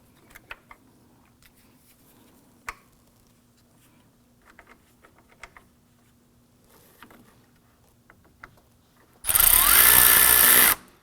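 Power tool briefly runs a fastener down on a 2015-2020 Ford F-150 active grille shutter, one loud steady whirring burst near the end after quiet shop clicks and handling noises.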